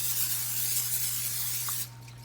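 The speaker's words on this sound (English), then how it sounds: "that's just non-stick cooking olive oil onto the peppers" Non-stick olive oil cooking spray hissing onto jalapeño peppers, a close, loud continuous spray lasting nearly two seconds before cutting off abruptly, with a low steady hum underneath.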